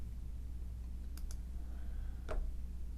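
Sharp mouse clicks in quiet room tone, a quick pair followed by a single click a moment later while enabling Canvas outcomes.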